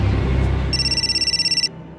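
A telephone rings with a rapid, pulsing electronic trill that starts abruptly, lasts about a second, then cuts off over low background rumble.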